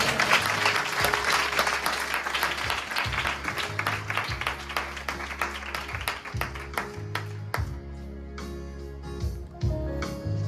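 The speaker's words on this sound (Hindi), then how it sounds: "ताली बजाओ।" Dense audience clapping fills a blessing meeting in Baramati, loud and steady at first, then thinning into scattered claps over sustained musical tones.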